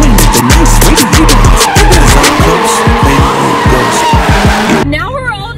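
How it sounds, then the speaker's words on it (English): Car drifting through donuts, tires skidding and squealing in long, loud sweeps over roaring engine revs, close and continuous, with voices heard briefly over the din. "Now we're all just like drifting."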